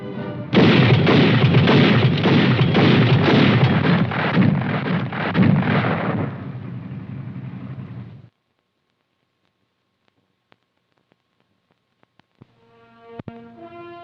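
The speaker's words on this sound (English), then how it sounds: "When it is used as a fully automatic weapon, it fires 240 rounds a minute." A fully automatic gun firing 240 rounds a minute, a loud, fast string of booming shots for about eight seconds, then near silence, with a faint tonal sound at the very end.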